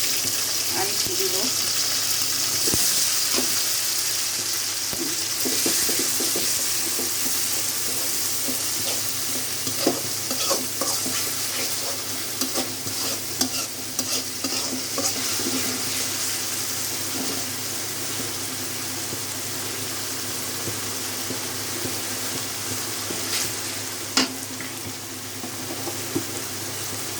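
Spices and garlic paste fry in a pan for a potato and stinging catfish curry, with a steady close sizzle and repeated scraping stirs throughout, and little speech.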